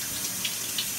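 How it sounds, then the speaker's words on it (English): Water running steadily in a shower, a continuous broadband hiss at moderate level with no voices. "Go take a shower."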